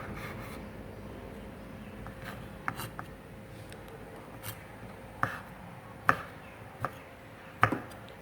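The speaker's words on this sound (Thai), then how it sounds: "เราก็หั่นเป็นชิ้นสั้นๆ แบบนี้นะคะ" Sharp knife strikes on a cutting board while chopping vegetables into short pieces for an omelette, scattered and irregular at first, then several louder chops near the end, over quiet background noise.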